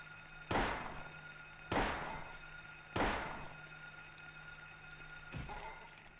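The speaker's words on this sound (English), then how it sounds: "Stop shooting the goddamn bug!" Four gunshots fired at a bug in the survival horror game Silent Hill 1, each a sharp booming report with a decaying tail, spaced about a second apart, the last slightly softer, over a quiet ambient hum.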